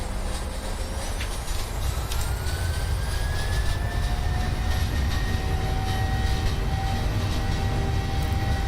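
Simulated jet engines of a PMDG 737-700 at takeoff thrust in a flight simulator game, a steady loud roar with rising whine tones, continuous throughout and with no speech.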